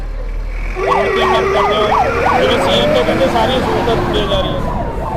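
A fire engine's wailing siren rises and falls repeatedly, loud and close, with a second siren tone and traffic rumble underneath, at a late-night fire in a residential area of Khanna, Punjab.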